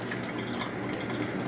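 Water from a pour-over kettle trickles steadily through 18 grams of ground coffee in a Hario V60 dripper, a continuous, fairly close liquid wash with no pauses and no voices.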